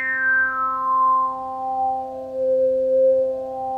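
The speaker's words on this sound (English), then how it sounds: "sweep that filter with some resonance on it as well." Distorted synth tone on a DSI Prophet 12 or Novation UltraNova with a resonant filter sweeping downward, its buzzy harmonics gliding lower over a steady low drone.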